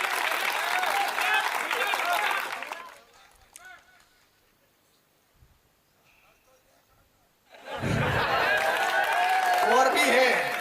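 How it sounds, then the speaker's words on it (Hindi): At a Hindi poetry recital, an audience claps loudly at the start. The clapping fades into near silence with a few faint sounds, then a second full round of applause and cheering swells up and carries to the end. "जरा एक बार ताली वाली बजाइए।"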